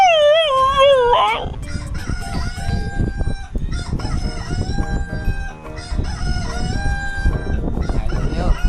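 A rooster crows loudly and close by, one long wavering call at the start, followed by clucking and other fowl noises mixed with background voices.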